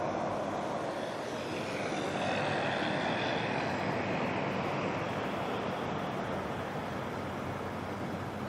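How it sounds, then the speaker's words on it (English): Jet engines of an Air New Zealand airliner spooling up at Auckland Airport, a steady broad roar heard from a distance that swells slightly and holds, with no voices. "can hear the spool up of NZ6"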